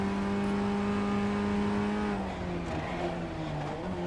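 Formula Ford 1600 race car in the iRacing sim at Oulton Park, engine droning steadily at high revs before dropping pitch on a downshift, loud and close with no talk.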